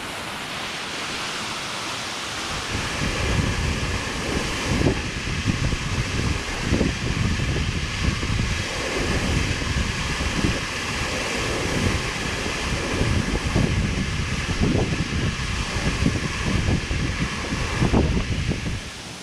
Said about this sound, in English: right beside the waterfall